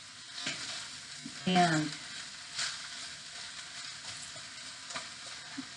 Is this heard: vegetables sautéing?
yes